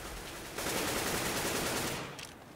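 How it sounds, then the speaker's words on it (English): Rapid gunfire bursts from a Counter-Strike match on Dust 2, shots punching through walls, forming a dense sustained rattle for about a second and a half before tailing off. "Got some wall banging going on, but nobody taking damage just yet."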